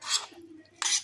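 Utensils stirring a gado-gado salad of potato, cabbage and tofu: two short, close metallic scraping swishes separated by a brief pause.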